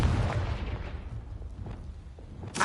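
Confringo fire spell blast in Hogwarts Legacy, a muffled booming burst with rumbling low-end impacts that trail off, followed by a short sharp crack at the end.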